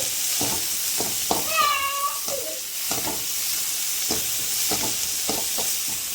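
Shallots and garlic sautéing in a pan for goat head curry, giving a steady sizzle broken by repeated stirring scrapes, with a short high-pitched squeak partway through.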